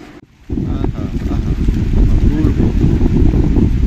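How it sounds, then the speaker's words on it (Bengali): Strong gusty wind through a sal forest in Saranda roars into the microphone after a short quiet start, lifting the sal leaves, a heavy, steady, low rumble that keeps pushing on. "প্রচন্ড ঝোড়ো বাতাস, শালের পাতা উঠছে"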